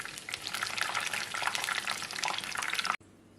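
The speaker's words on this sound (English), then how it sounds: "That is to deep fry these flowers." Batter-coated pumpkin flowers for pakodas deep fry in hot oil, giving a steady, close bubbling sizzle that cuts off abruptly near the end.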